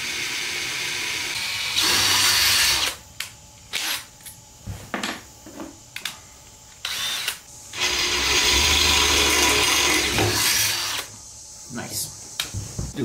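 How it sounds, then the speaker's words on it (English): A power drill whirs loudly in two long bursts, with shorter clicks, clunks and handling noises between them; a voice speaks briefly in the gaps, while drilling a hole with a big bit for Harley drag pipe lollipops. "the big drill bit and drill that next."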